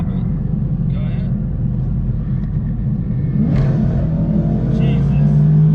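An 830+ horsepower Mustang dropped into third gear and accelerating hard, a loud, steady engine roar that swells and climbs in pitch toward the end, with excited voices talking over it.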